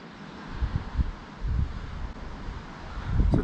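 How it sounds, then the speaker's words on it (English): Wind gusting across a mountain lake during trout fishing, buffeting the microphone in low rumbling surges that swell and fade, with no voices. "This wind could fuck off, that'd be nice."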